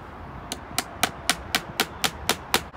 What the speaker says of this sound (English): we can come in now with our nails just to give it more strength